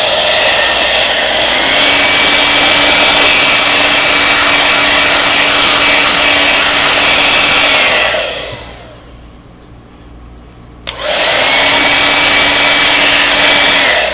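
A loud, close hair dryer blows steadily on Singer foot pedal parts, cuts off with a dwindling whine, falls quiet briefly, then snaps back on at full roar.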